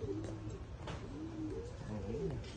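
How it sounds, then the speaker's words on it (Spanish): A pigeon coos in a series of soft, low, throaty calls at close range, repeating across the moment with faint background noise and no talking. "Ahí salió la paloma para el vistero, para afuera."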